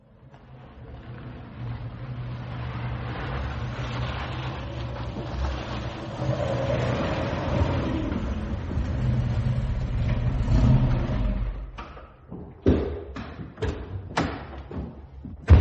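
A car engine runs and drives steadily with a low rumble for several seconds, then the sound breaks into a series of sharp thumps and clunks, like doors or gears, near the end.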